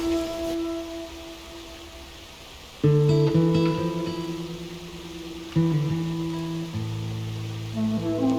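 Steady rain in Red Dead Redemption 2 washes across an outdoor scene as a soft, continuous hiss, while tonal music or game sounds swell in over it partway through.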